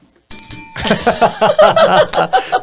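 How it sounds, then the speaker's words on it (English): A bright bell ding rings out at the start, its tone hanging on while several quick, rhythmic metallic strikes follow close by. "hitting the bell"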